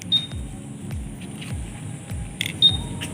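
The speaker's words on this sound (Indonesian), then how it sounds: "Untuk mengaktifkan alarm kita tinggal tekan," A 2019 Honda Vario 150 motorcycle's smart key alarm activates with two short, high electronic chirps a couple of seconds apart over a quiet rhythmic background hum.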